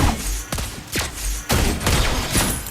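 Sharp sniper rifle shots from Lesley in the mobile game Mobile Legends, several loud crisp cracks spaced about half a second apart over game background sound.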